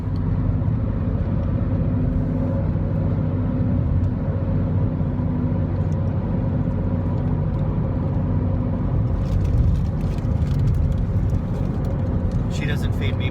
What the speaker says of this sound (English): 4 more hours of driving till our first real stop.